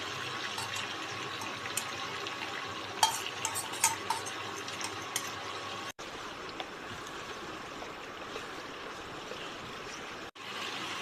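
Spice paste frying in oil in a pan, a soft, steady sizzle with faint scrapes and a few light clinks, quiet and close throughout.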